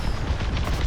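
Starfighter laser cannons firing in a Star Wars space-combat game, dense rumbling bursts of weapon fire with booms layered continuously over one second, loud and close.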